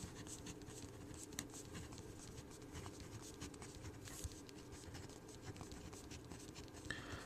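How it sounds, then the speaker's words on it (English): Pen or pencil writing an algebra equation for a polynomial word problem, a soft continuous scratching and patter of strokes on paper, faint and close, with no talk. "I write that down quickly."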